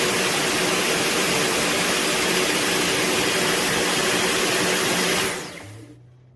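A Dyson V11 Origin cordless vacuum cleaner on boost mode roars with a steady, loud whooshing whine, then winds down and falls quiet near the end.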